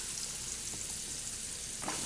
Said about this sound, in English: I got my hot oil. All right. Nice sizzling.